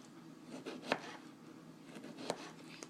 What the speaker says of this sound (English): And then I just keep chopping until the whole thing's full